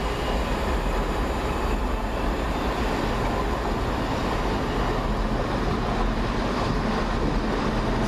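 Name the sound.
train arriving at a station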